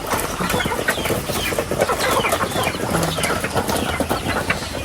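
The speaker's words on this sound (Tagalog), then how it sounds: "si bossing nagpapakain po ng mga manok" A flock of chickens clucks busily while being fed, a dense, continuous chatter of close, overlapping calls with no pauses.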